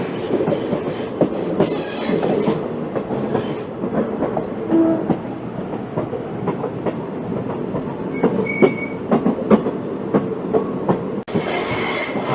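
Passenger train on the Kollam to Chenkottai line running at speed through a station without stopping, a steady loud rumble of wheels on rail with intermittent clicks and brief squeals, heard from on board.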